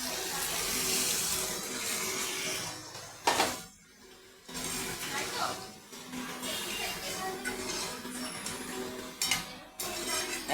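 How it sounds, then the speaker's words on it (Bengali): Water pouring into a pot of potato and tilapia fish curry, a steady splashing rush with a brief clink and a short break midway, close and fairly soft. "এখন পরিমাণ মতন জল দিয়ে দেবো।"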